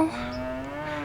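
A human voice imitates a cow with a single drawn-out moo, close and clear, its pitch sliding downward at the end.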